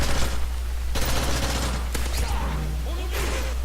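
Rapid gunfire in Call of Duty Modern Warfare 3, several loud close bursts of shots in quick succession with crackling echoes, mixed with game ambience and a low steady hum.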